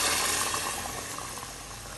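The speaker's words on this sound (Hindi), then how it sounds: "और अब हम इसके अंदर शामिल करेंगे यखनी" Strained chicken stock (yakhni) poured into a pot of fried chicken, giving a steady hissing sizzle and bubbling wash for a couple of seconds, close and fairly quiet.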